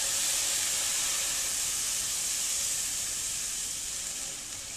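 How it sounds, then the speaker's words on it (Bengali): Evaporated milk hits a stovetop pan over medium heat for homemade mawa (khoya), giving a steady bright hiss and sizzle that holds evenly for several seconds and eases off slightly at the end, with no talking. "এখন আমি আমার চুলার হিটটা মাঝামাঝি করে পুরোটা এভাপোরেটেড মিল্ক আমি এখানে ঢেলে দিব।"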